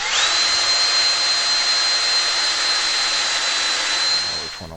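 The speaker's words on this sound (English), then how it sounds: "that we're going to drill through" A power drill whines at a steady high pitch for several seconds, loud and close, then winds down at the end.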